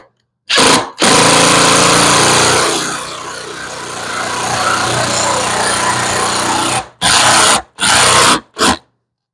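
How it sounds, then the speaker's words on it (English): A power drill drives 2-inch Kreg pocket hole screws into wood: one long, loud whirring run that strains and dips midway, followed by three short bursts of the motor, with no talk. "we're going to just run some Kreg pocket hole screws"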